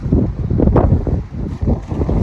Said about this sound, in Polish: ale wiatr wieje